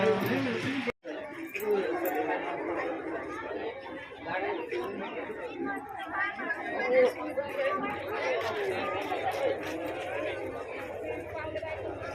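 A roadside crowd waits for a procession of vehicles, steady murmuring chatter from many people close by, with nearer voices talking over the general hubbub throughout.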